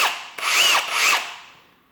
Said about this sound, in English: Go to drill mode.